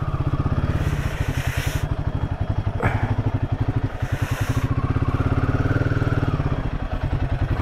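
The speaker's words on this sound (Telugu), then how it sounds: "లోపలికి బండి పోతుందా చూద్దాం, ట్రై చేద్దాం" Royal Enfield Himalayan 450 motorcycle rolling at low speed into an indoor space, its single-cylinder engine thumping steadily and loudly up close with a rhythmic idle-like pulse and brief throttle blips.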